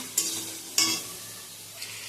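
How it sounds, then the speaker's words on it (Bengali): Sliced onion frying in hot fish oil in a wok gives a soft sizzle, broken by three quick scraping stirs near the start, the middle and the end. "তেলটা ভাজা হয়ে গেছিলো, সেই তেলের মধ্যে আমি কেটে রাখা পেঁয়াজটা দিয়ে দিয়েছি"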